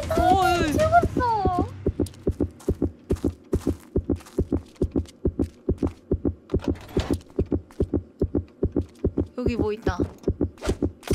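A steady, close heartbeat effect pulses without a break in the survival game Survival Frenzy, each thump evenly spaced, with players' voices briefly talking over it at the beginning and end.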